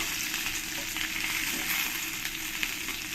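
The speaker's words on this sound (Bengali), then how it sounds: "এই মাছগুলো আমার সব ভাজা হয়ে গেছে।" Pomfret pieces fry crisply in a pan of hot oil, a steady, close, dense sizzle with small crackling pops that holds at an even level from start to finish.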